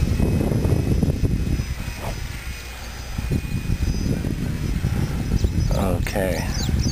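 An 800mm P40 RC model airplane buzzes past overhead, its small engine whine rising and falling as it flies by, with wind noise and someone talking throughout.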